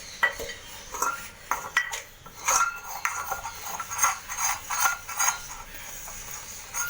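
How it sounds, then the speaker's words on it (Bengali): Dishes being washed and scrubbed by hand in a home kitchen: close, irregular clinks and clatters of crockery and utensils mixed with scraping and swishing strokes, with no one talking. "বাসনগুলো ধোয়া হয়ে গেল, একটু মেজে নিয়ে"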